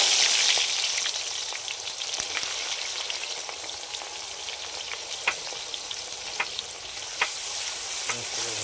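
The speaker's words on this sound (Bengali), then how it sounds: "পেঁয়াজটা দিয়ে দেবো।" Sliced onions frying in hot oil with bay leaf, whole cardamom and cinnamon for chicken biryani, a steady close sizzle with occasional sharp pops and crackles, no voices.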